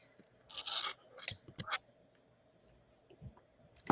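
Jewelry wire cutters snip off excess beading wire with a few quick, close, faint metallic snips and scrapes, separated by short pauses in a quiet room.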